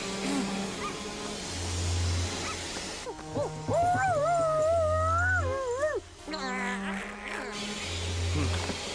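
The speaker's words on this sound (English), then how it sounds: "It sounds like a dog." A dog howls in a long, wavering cry in the middle, loud and close, set against a droning engine-like hum that runs before and after.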